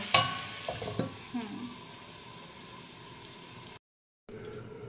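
Small fish and vegetable curry stirred in a pan, a few scraping utensil strokes at the start that fade into a soft simmering hiss, followed by a brief dropout.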